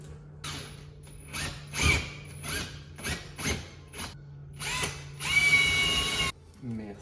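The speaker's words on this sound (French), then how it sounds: "D'un forêt à étage, parce que j'ai plus de mèche, je dois aller jusqu'au 10 pour le placo." A step drill bit bores through plasterboard during a Velux window reveal build in a renovated hangar, heard as several short whirring bursts with clicks and rattles, ending in one longer high-pitched drilling run.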